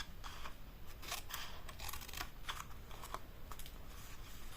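Scissors cutting paper for a Stampin' Up gift basket, a close run of quick crisp snips and rustles that continue steadily without talk.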